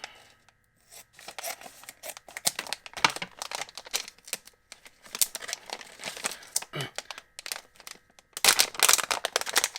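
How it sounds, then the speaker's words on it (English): Scissors snip and crinkle through the plastic packaging of a mosquito repellent bracelet, with rustling and crackling in bursts and a louder crumpling at the end; a voice murmurs briefly. "I'm gonna need the scissors here"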